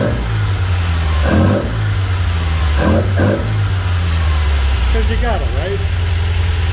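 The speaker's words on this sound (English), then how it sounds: "I can't just let it idle. I got to give it a revving." A 1977 MGB engine with Weber DCOE 45 carburetors runs loud and close, idling with a deep rumble and brief revs, while a person talks briefly over it.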